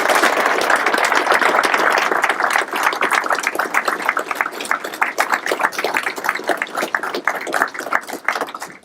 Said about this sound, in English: I'd ask that you give Major Dotson a big round of applause